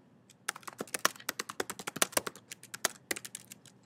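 Rapid, uneven clatter of keystrokes on a computer keyboard as a folder description is typed, close and fairly quiet, with short pauses between bursts and no talking.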